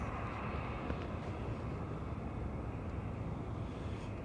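A McDonnell Douglas airliner with Pratt & Whitney PW4000 engines roars steadily as a broad, sustained jet rumble, loud and close throughout with no talk.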